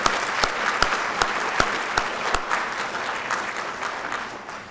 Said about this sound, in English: let's give our support system a round of applause as well.